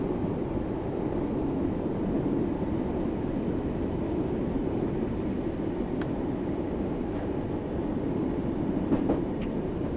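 A Class 484 electric train in the Train Sim World 2 video game runs at steady speed, giving a continuous low rumble and rolling wheel noise with a few faint high squeals and clicks over it.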